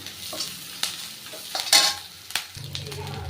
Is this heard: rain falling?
no